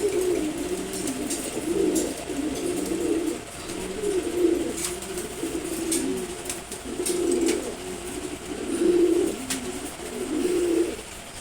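A female Giribaz pigeon coos in soft, repeated rolling phrases close by, steady over a low background hum, with no talk.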